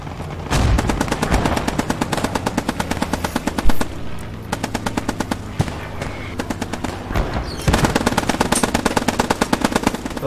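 Rapid machine gun fire in the video game Post Scriptum during an Arnhem bridge defense, loud sustained bursts with brief pauses and scattered single shots between them.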